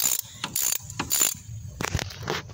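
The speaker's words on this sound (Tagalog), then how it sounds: "So tanggalin natin tong bolt na to." A hand ratchet works a bolt loose on a front-wheel-drive axle spindle assembly. Quick bursts of close, sharp clicking come in an irregular rhythm with short pauses between strokes.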